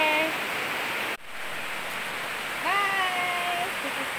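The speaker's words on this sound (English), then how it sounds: "Stay safe, it's raining outside." Steady rain pours outside as a broad, even hiss, with a few faint chirps and whistles riding over it near the end.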